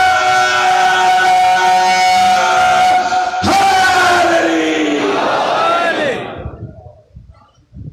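A large crowd at a religious majlis gathering chants slogans in loud unison, the massed voices sustained and swelling for about six seconds before breaking off into quieter murmurs.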